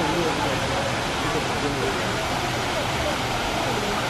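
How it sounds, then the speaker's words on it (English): Water falls in a fountain that appears to flow backwards, in front of the Imagination Pavilion at Disney World; a steady, dense rushing hiss that goes on without a break. "Here's the backwards waterfall in front of the Imagination Pavilion."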